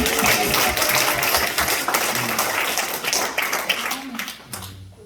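Dense, steady clapping from an audience at a church pastors' training conference, loud and close, fading slightly toward the end.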